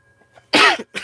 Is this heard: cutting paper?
no